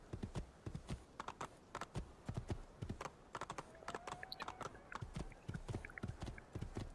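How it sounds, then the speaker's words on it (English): A horse gallops in Assassin's Creed 2, a fast, steady clip-clop of hooves, quite faint, repeating evenly through the whole stretch with no talking. "riding a horse is so entertaining"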